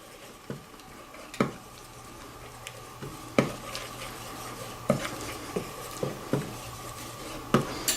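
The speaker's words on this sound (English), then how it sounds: "Let's just stir all this together." Lime juice and fish ingredients being stirred together in a bowl: a run of light scraping strokes punctuated by sharp utensil clicks against the dish, fairly close, with no talking.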